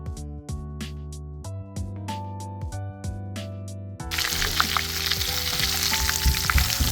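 Food fries in a pan with a close, crackling sizzle that starts abruptly partway through and continues under background music.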